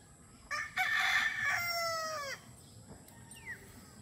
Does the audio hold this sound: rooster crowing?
yes